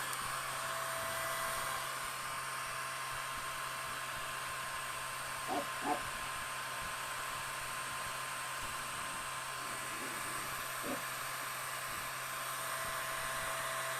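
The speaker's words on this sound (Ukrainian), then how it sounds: "Фен тримаю на перших, на першій позиції, щоб не сильно, щоб нічого не перегріти" A hair dryer runs on a low setting, a steady even whirring hum that holds without change, with a couple of faint soft taps.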